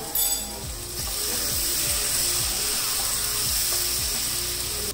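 Potato slices fry with onions in a pan for a spicy aloo katliyan dish, giving a steady sizzling hiss throughout, with a faint repeating mechanical ticking running beneath it.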